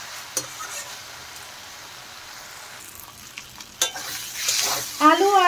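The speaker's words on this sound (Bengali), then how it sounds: "দেখেন আলু আর বেগুন মশলার সাথে আমি ভালো করে কষিয়ে নিচ্ছি।" Cubed potato and eggplant sautéing with spices in a pan: a soft sizzle with spatula scrapes and clatters growing busier toward the end, close and fairly loud, no speech.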